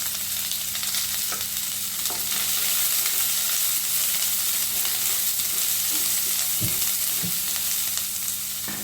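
Onions and three green chillies sizzle steadily in a pan over the flame while being sautéed for an egg stew, with a constant close frying hiss and a few soft stirring clinks.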